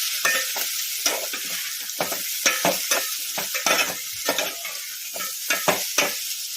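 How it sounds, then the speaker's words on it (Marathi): Toor dal being sautéed in a pan, a bright dry sizzle punctuated by regular scraping and tapping spatula strokes, close and steady, with no talking. "त्यामध्ये तूर डाळ टाकणार आहोत तर ती छान अशी परतून घेणार आहोत"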